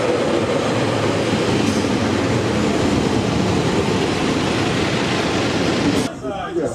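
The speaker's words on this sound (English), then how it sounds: "Here comes my train. Oh, it's a 2-horse pacer!" A two-car Pacer diesel train rolls into a station platform with a loud, steady rumble and wheel noise, then brakes and settles near the end.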